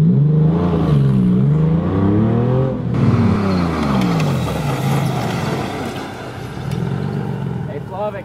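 A Porsche 911 accelerates to about 40 mph during a brake test, its engine note climbing through rising revs and a gear change, loud and close with a voice talking over it.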